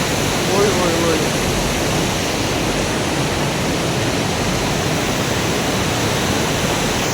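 Broad, steady rushing of the Kunhar river flowing past its bank at evening, a constant close wash of water noise with no pauses and no talk.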